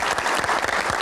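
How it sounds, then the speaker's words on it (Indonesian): A studio audience at a television panel talk show bursts into dense, steady applause, close and loud throughout the brief moment, with no voices over it. "Kita berikan tepuk tangan yang paling meriah untuk rekan-rekan panelis yang menemani kita pada malam hari ini."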